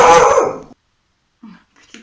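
Large dog giving a single loud, close bark at the start, followed by silence and a couple of faint short sounds.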